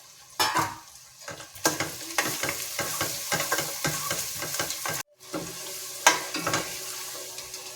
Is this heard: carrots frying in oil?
yes